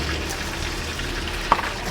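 Indomie mie nyemek goreng noodles fry in a pan at a busy street food stall, giving a steady soft sizzle with one brief sharper clink or splash near the end and no one speaking.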